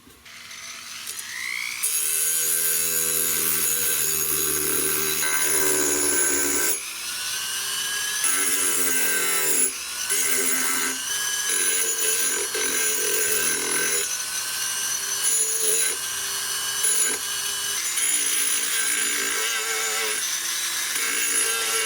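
Sanding a wooden stock on a 16-gauge European Guild shotgun by hand with a straight sanding block: steady, close, loud abrasive strokes that run almost continuously, with brief pauses between passes and no talking.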